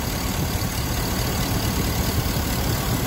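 A car engine idles with a dirty drive belt pulley, giving a dense, steady, loud running hum without change for several seconds.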